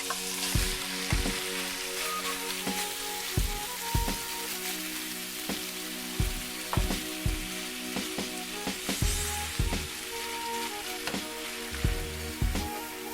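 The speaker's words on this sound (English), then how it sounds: "We have our medium saucepan over medium lowish heat." Shrimp frying in a medium saucepan over medium-low heat, a steady close sizzle with scattered crackling pops and occasional utensil scrapes, no talking.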